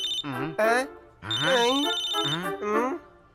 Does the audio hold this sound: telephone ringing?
yes